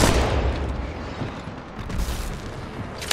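Gunfire in the mobile shooter Apex Legends Mobile: loud, steady rattling bursts packed closely together across the whole moment, with no pauses between shots.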